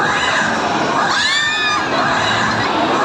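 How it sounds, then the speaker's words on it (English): A crowd cheers and shouts at a sea lion show at Ocean Park, with children's voices prominent in the steady, loud din and a brief whistle-like call rising over it. "How about a round of applause for sea lion friends?"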